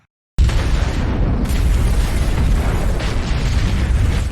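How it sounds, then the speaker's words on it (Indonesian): A warehouse blows up in the action film Homefront: a sudden loud blast bursts out of silence and rolls on into a thick, sustained roaring boom with crackling debris, with no voices. "Casey menyalakan lampu dan gudang pun meledak."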